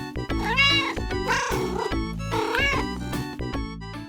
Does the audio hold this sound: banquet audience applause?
no